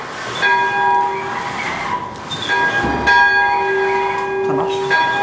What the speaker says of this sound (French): c'est la corde qui sert à enclencher les cloches